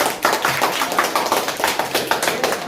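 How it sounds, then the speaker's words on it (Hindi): A classroom of students claps for a classmate during a Hindi grammar lesson, a dense patter of many hands, fairly close, lasting the whole moment with no talking. "ताली बजा दो"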